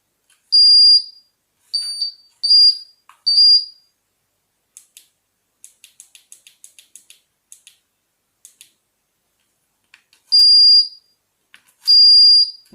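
Prowess carp fishing bite alarm receiver beeping in silent-mode setup: loud, close, high-pitched electronic beeps in short bursts, with faint rapid clicking in between, no talking.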